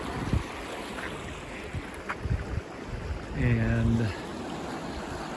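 Fast floodwater churns turbulently over a submerged spillway near a campground, a steady broadband rush with a brief spoken word.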